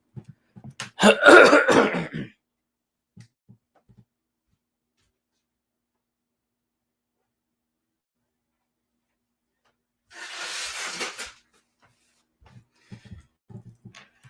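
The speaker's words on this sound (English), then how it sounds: "Hold on, let me blow my nose." Two loud, wet nose blows a few seconds apart, the first longer and stronger, with quiet rustling in between.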